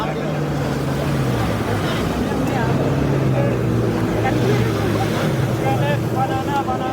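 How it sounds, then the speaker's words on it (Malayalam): A motorboat heads back in at sea off Bali after a banana boat ride, its engine droning steadily from mid-distance under heavy wind buffeting on the microphone, with a voice talking over it. "മറ്റൊരു സംഘം ഇതാ ബനാന റൈഡ് കഴിഞ്ഞ് മടങ്ങിയെത്തുന്നു."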